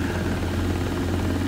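A helicopter's rotor and engine produce a loud, dense, continuous thrumming drone with a low rhythmic chop, steady and close throughout.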